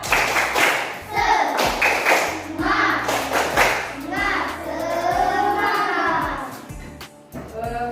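A class performs a rhythmic clapping routine in a classroom, sharp hand claps in patterned bursts mixed with children's voices chanting along, close and fairly loud throughout.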